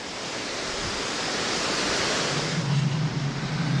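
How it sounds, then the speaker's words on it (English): A steep stream in the Skagit Valley rushes down almost like a waterfall, making a steady broadband roar of flowing water, close and loud, with no talk. "Look at that beautiful, not quite a waterfall, but a very steep stream."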